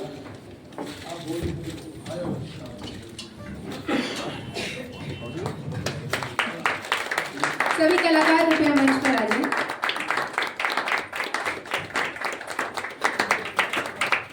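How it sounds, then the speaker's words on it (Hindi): Audience clapping after the theatre play Gadhe Ki Baraat at a drama festival, with scattered claps at first and an announcer talking, then growing into louder, denser applause that keeps going to the end. "आपकी तालियां बताती हैं कि नाटक आपको कैसा लगा।"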